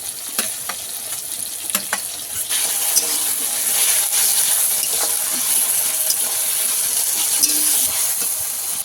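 Ground onion paste fries in a pan with tomato and onion for a fish kalia, giving a steady bright sizzle and crackle throughout, with occasional stirring scrapes and no talk.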